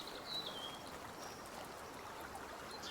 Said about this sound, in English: That waterfall sounds a whole lot better now that it's not absolutely deafening